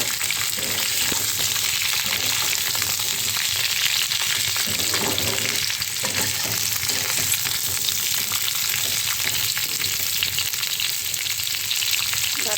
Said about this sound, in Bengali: ডাটাটাও একটু ভাজা হবে।